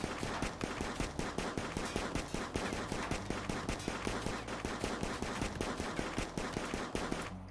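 Rapid, steady bursts of gunfire from a shooting practice session in the RimWorld game, dense repeated shots running nonstop at close range and fairly loud, with no talking.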